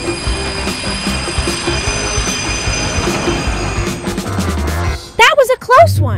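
A train braking to a stop on its tracks, a steady high wheel squeal riding over a continuous rolling rumble, with voices breaking in near the end.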